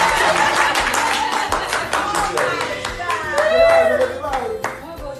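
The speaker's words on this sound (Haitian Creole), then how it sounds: "Ça mérite d'être applaudi" An audience claps steadily and fairly close, a quick run of sharp hand claps with voices talking and calling out over it.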